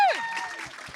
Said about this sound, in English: Yeah, let's get a big cheer